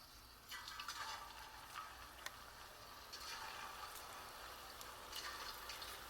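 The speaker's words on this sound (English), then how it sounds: "So I have the oil on the stove, get it up to about 350, and let's get them fried." Faint, quiet sizzling of zeppole dough frying in oil at about 350 degrees, a soft steady crackle with a few brighter bursts of bubbling.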